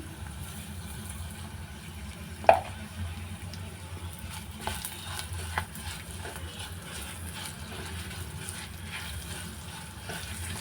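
An oggarane tempering, salted and fried in a pan for pineapple-pomegranate curd rice, sizzles in a steady low crackle with a few sharper pops and clinks near the start.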